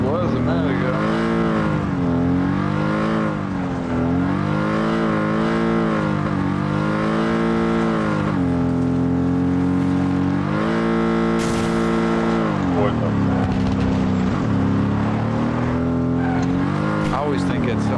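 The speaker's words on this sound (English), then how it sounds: "I always think it's someone shooting at us, that noise from this car." A car engine in the video game PUBG drones continuously, its pitch rising and falling as the vehicle accelerates and eases off, with players talking over it throughout.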